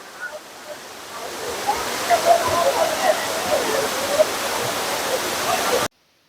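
Steady rushing water from a multi-tiered waterfall in Ernakulam fills the scene, a broad continuous roar that swells slightly before cutting off abruptly near the end.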